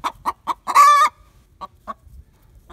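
A hen clucks in short, separate bursts, with one longer, louder squawk partway through. The sounds are close and there is no talking.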